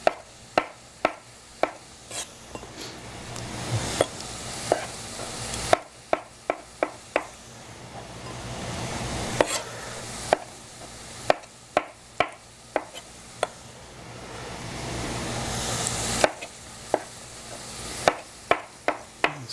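Canned plum tomatoes cut into pieces with a knife on a board: crisp, fairly close chops land in uneven clusters with short pauses between, alone with no talk and a faint background hiss.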